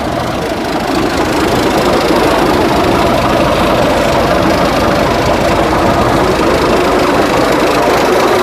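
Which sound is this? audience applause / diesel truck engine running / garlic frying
diesel truck engine running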